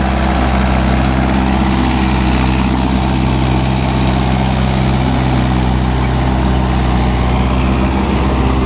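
A Mahindra Yuvo 575 4WD tractor engine runs loud and steady at close range, a constant low rumble with no talk.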